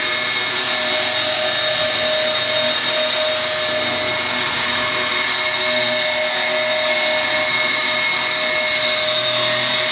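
A radio-controlled model helicopter flies with a steady, loud high-pitched rotor and motor whine, constant throughout with no talk.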